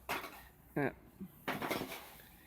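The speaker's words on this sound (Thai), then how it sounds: "คนไปคนมาให้มันส่วนผสมเข้ากันนะครับ" Homemade feed for giant bandicoot rats being stirred in a large mortar basin on a Chiang Rai farm, a batch of about 100 kg, giving scraping, clattering sounds in bursts with someone talking over parts of it.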